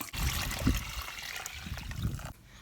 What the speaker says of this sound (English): So I am going to soak them with water overnight.